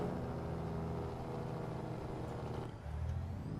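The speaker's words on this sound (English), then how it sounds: "we're going to start going on our Jakes. Which we have a nice sounding Jake brake," A Detroit Diesel truck's Jake brake in American Truck Simulator gives a loud, steady low-pitched rumble throughout, with a brief dip and shift in tone near the end.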